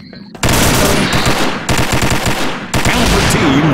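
Rapid bursts of automatic gunfire crackle loudly in long volleys, separated by short pauses, with game-like sound effects in between, in the video game Combat Arms Europe.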